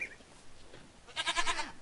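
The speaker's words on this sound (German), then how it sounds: "Was macht denn die Ziege da?" A Minecraft goat gives a short, fairly loud bleat near the end, after a quieter stretch of faint game sounds.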